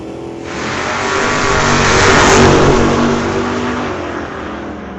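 A 1968 Firebird and a Bel Air rev loudly side by side at a drag strip, their engines swelling to a roaring peak mid-burst and then easing, close and continuous with no talk.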